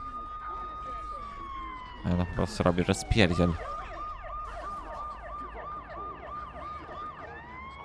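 An ambulance siren in the video game Watch Dogs 2 wails in repeated rising-and-falling sweeps, partly drowned out midway by a burst of speech, then continues alone.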